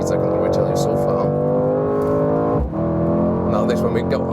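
A Mercedes C63 AMG Coupé driven on a racetrack, its engine droning steadily from inside the cabin with a brief dip midway, under continuous talking.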